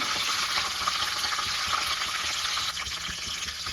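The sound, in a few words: garlic frying in oil for rasam tempering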